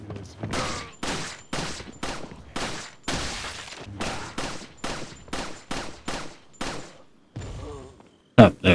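Video game gunfire from Resident Evil 4, with about fifteen sharp, loud shots fired at a steady rhythm, each decaying quickly. A short pause follows, then a couple of harsher bursts, and no one speaks over them.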